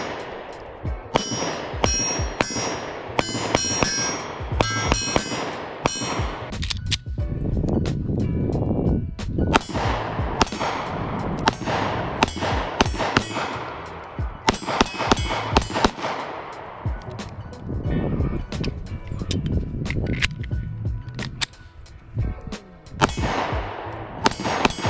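Rapid gunshots ring out from a handgun fitted with an ADE HG54G laser light combo, loud sharp bursts in quick clusters with metallic clangs and brief pauses between strings.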